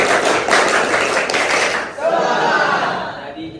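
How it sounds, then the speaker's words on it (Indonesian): A group claps in rhythm during a teachers' mentoring session in Medan, a fast, close patterned clapping that stops abruptly partway through, leaving faint voices and room noise behind. "sebelum itu kita tepuk semangat."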